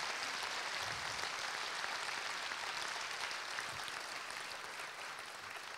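An audience applauds a jazz band with sustained, dense clapping that stays loud and even throughout before easing slightly near the end.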